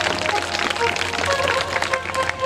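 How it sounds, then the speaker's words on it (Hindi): Brisk applause from the audience at a Shrimad Bhagavat katha in Hirapur village, Kasganj, a dense run of rapid clapping with someone speaking over it. "अब भाइयों ने बड़ी तेजी ताली बजाई"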